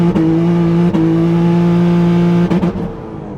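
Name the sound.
Honda Accord turbo V6 accelerating hard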